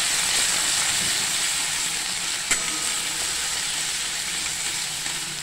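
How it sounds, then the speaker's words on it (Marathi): Homemade raw masala paste for mutton sukka sizzles and fries in a pan, a continuous close hiss with a soft stirring scrape partway through and no talking. "आता आपण हा सगळा मसाला छान परतून घेणार आहे."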